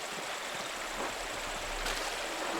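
Steady rushing waterfall fed by mountain snow melt in the video game Pentiment, a constant broadband wash of water at moderate level.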